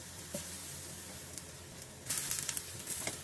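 Eggplant hits a hot pan and frying sizzle builds, soft at first and then swelling into a louder crackling hiss near the end, with no talk.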